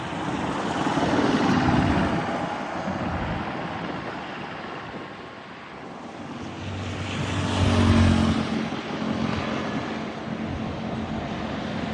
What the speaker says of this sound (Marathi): हा रोड खूप वाहता आहे आमचा आर्मी रोड बघा